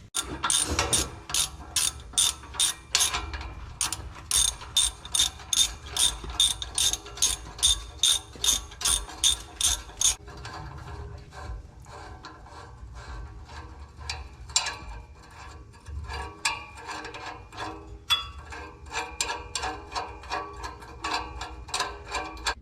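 Hand ratchet working the exhaust clamp screw on a 2012 Shelby GT500 during a Borla ATAK axle-back install, a rapid run of sharp, close clicks in bursts, loud at first, then quieter and more irregular.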